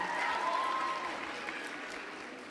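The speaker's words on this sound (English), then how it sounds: "Guys, let's wish him a round of applause and good luck." Audience applause at a Bible quiz national finals closing ceremony, a steady wash of many hands clapping at moderate loudness, with a faint tone and some voices underneath, fading gently.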